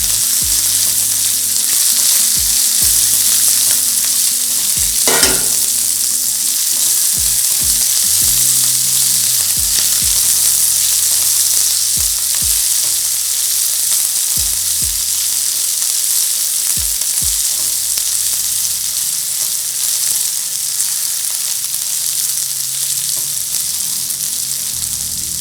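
Chopped onion, a medium one, fries in a pan for an ivy gourd onion dish, giving a loud, steady sizzle throughout with intermittent scraping and stirring clicks close by.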